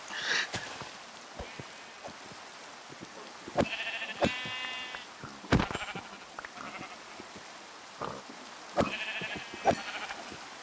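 Several Minecraft sheep bleat on and off, some short and some drawn out, over a hushed patter of rain and scattered soft clicks.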